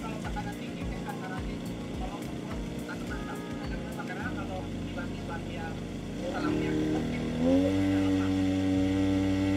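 A cultivator's engine idles with a rough, chugging note, then is revved to full throttle and settles into a higher, steady, loud drone, with someone talking near it.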